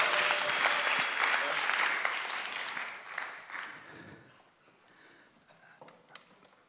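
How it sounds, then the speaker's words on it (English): A crowd applauds a team at a hack challenge presentation event in London in 2014. The clapping starts loud and full, then thins and fades over several seconds, with scattered late claps trailing off. "Another round of applause for Liam"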